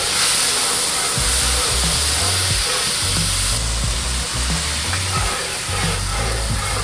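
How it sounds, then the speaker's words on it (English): Jamaican Red Stripe beer hitting a hot pan to deglaze it, giving a loud, steady hiss and sizzle of steam close by, with low thumps and clatter from the pan underneath. "We're gonna go ahead and deglaze it with some Jamaican red stripe beer."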